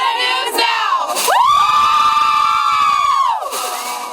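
A football crowd and cheerleaders cheer loudly and continuously at a Friday-night high school game, with high shrill voices rising into a sustained, close, excited roar.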